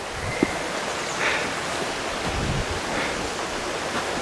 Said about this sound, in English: this little quaint footbridge crossing this stream